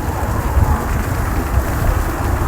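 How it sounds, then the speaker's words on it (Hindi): Heavy rain pours down onto a street in a steady, dense wash of noise that holds at an even level throughout, with no voices over it. "बहुत तेज बारिश हो रही है"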